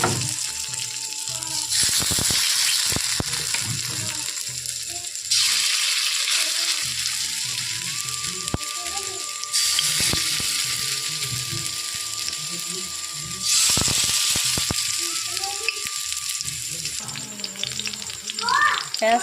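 Ridge gourd fritters sizzle in hot oil in a home kitchen, a steady crackling fry heard up close with clinks, stirring and scraping between bursts of louder bubbling.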